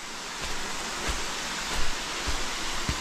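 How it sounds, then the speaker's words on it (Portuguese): Constant hiss of rushing water from Cachoeira da Gruta, a waterfall in Tijuca Forest, Rio de Janeiro: a broad steady roar with a few faint low thumps. "Tá ouvindo o barulho da água?"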